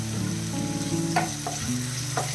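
Onions sauté in a pan for poha upma with a gentle, continuous frying sizzle and a few brief stirring scrapes, all over background music.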